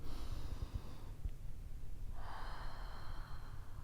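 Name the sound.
deep breathing in through the nose, out through the mouth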